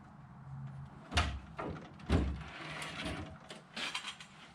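Metal drawers sliding out of a US General roller cabinet tool chest, with two sharp clunks and scraping runs as each drawer is pulled free, close and fairly loud.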